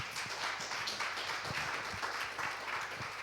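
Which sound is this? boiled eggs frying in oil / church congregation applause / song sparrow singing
church congregation applause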